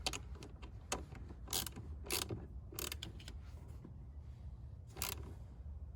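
A 1/2-inch socket tightens the negative battery terminal clamp on a camper battery, giving a series of close, sharp ratcheting clicks in short bursts over a low background hum.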